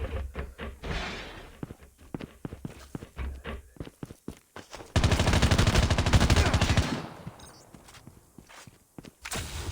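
An M4 rifle firing in a shooter video game, with quick bursts and single shots rattling out close and loud, a dense sustained stretch of noise midway, then scattered shots and footsteps.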